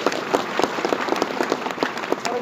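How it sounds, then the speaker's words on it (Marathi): An audience at a Nirankari spiritual gathering applauds, with dense overlapping hand claps forming a steady, moderately loud wash and sharper claps popping out of it throughout. "त्यांच्यासाठी तुम्ही खरोखर टाळ्या वाजवा महात्मानं"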